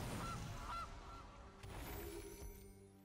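Goose card played in a digital card game, giving a couple of loud honks at the start over busy game music and effects, with a further burst of game sounds later.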